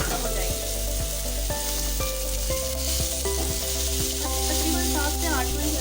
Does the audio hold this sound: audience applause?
no